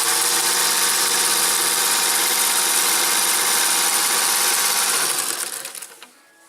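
A sewing machine runs a seam on an apron with a loud, steady motor hum and rapid needle chatter, holding an even pace for several seconds before winding down and stopping.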